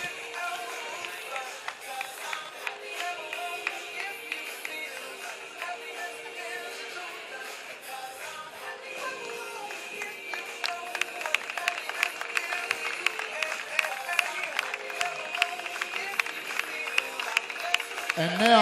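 Audience applauding during a cheque presentation at the Manila Open 2018 beach volleyball ceremony, sustained crowd clapping that grows louder and denser in the second half, with voices audible over it.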